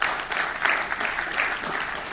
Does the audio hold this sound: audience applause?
yes